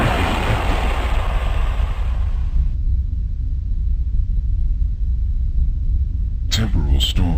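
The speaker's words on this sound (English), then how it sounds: "Temporal storm approaching." A temporal storm effect from the DOS game Millennia: Altered Destinies: a loud, steady rumbling wash that thins out partway through and then continues as a low drone, with a few sharp bursts near the end.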